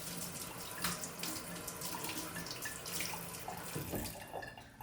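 Water runs steadily from a kitchen tap while hands are wetted for shaping sticky sushi rice, a continuous splashing stream at close range with no talk.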